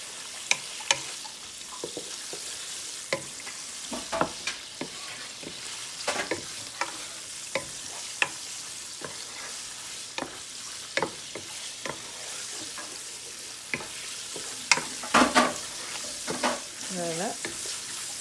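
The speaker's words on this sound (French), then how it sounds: "On peut revenir à notre viande pendant 5 minutes." Meat for Thai fried rice is stir-fried in a pan, sizzling steadily under repeated scraping, clacking strokes of a utensil. A voice briefly murmurs near the end.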